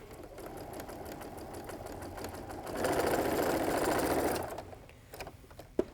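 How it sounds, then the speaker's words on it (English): A sewing machine runs with a steady mechanical whir, speeding up into a louder burst midway, then slowing and stopping with a few clicks. "It keeps that fabric sturdy as it goes through the sewing machine."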